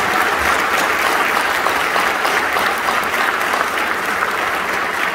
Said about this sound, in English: So how about one more round of applause for the incredible staff